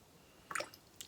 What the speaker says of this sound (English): now I'm going to rinse my brush off